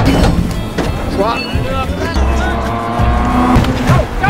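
A Ferrari racing car roars at speed during a race, its engine note rising and shifting continuously over more than four seconds, with tire noise and voices talking over it.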